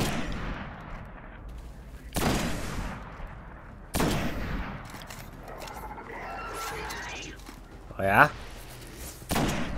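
Sniper rifle shots in the video game Destiny ring out as several sharp, loud cracks spaced a couple of seconds apart, mixed with game ambience and a brief spoken exclamation.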